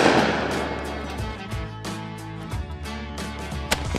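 Shotgun firing with a Falcon Strike recoil reducer fitted: one loud blast opens, then fades into sharp echoing cracks and a later distant crack, heard outdoors with no talking.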